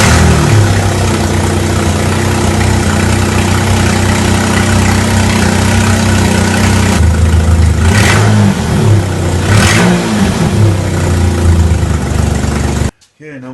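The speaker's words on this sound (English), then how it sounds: "Now here's just a quick start after the harness repair." A Mercury Monterey engine, just after a wiring harness repair for misfires, runs loud and close at a steady idle, with a couple of brief revs near the end before it cuts off.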